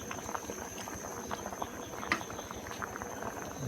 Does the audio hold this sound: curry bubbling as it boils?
yes